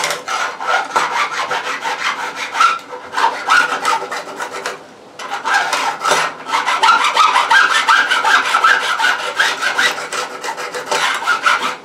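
A file rasps back and forth across guitar frets during fret leveling. The scraping strokes are close and continuous, with one brief pause partway through.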